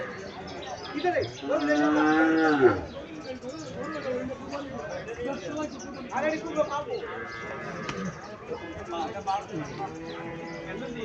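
Sahiwal calves moo loudly and repeatedly at a busy outdoor cattle market at Chandnimura, Cumilla, Bangladesh, with people talking and general crowd bustle around them.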